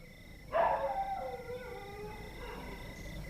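A dog named Jabra, in a dramatized story, lets out one long wavering howl that swells and slowly trails off, close and clear over a quiet background.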